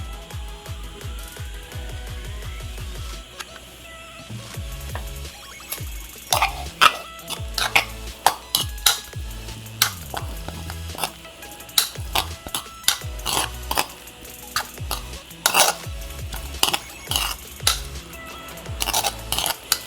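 A spoon stirs soaked poha with curd and salt in a bowl, giving repeated clinks and scrapes against the bowl in irregular bursts, with quiet stretches between them.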